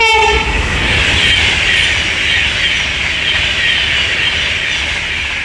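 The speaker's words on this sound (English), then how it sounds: "over here is an Avanti West Coast class 390 Piccadilly from London Euston to Manchester Piccadilly" An Avanti West Coast class 390 train at Watford Junction on the West Coast Main Line sounds its horn in a short loud blast, then rushes past close by with a steady roar.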